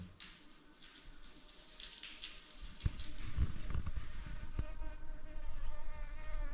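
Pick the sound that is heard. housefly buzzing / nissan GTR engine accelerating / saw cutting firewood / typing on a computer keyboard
housefly buzzing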